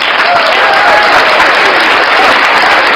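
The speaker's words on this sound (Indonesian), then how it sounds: "Tepuk tangan untuk jemaat iblis." Loud, dense applause from a church congregation, steady and sustained throughout with no breaks, clapping filling the room evenly from start to finish.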